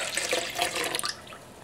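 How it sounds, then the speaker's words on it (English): Milk pours into a bread dough mixture in a brief, close liquid gush that trickles off toward the end, alone with no talk. "Then you want to pour in your milk"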